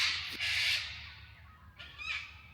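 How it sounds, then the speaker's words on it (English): Birds calling loudly in a Canberra suburb, harsh crow-like caws or squawks in two bursts, close and prominent over a low steady background rumble. "those birds"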